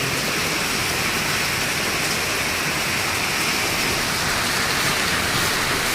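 Heavy rainfall pours down in Kalimpong, a dense, steady hiss of rain beating on surfaces that stays loud and unbroken throughout, with no voices.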